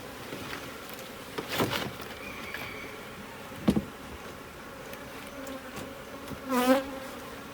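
Honey bees drone in a continuous swarm around an open five-frame hive box fed with honey-water, while individual bees buzz loudly past the microphone now and then.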